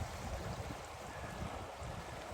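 Creek water flowing at a normal level, a faint, steady broadband rush and babble with no talk.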